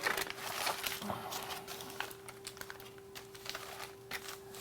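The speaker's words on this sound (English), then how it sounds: "we will fold up our tin foil here" Tin foil being folded up on a workbench while building an acoustic guitar, giving a run of crisp crinkles and light taps at close range, dense at first and then thinning into scattered rustles.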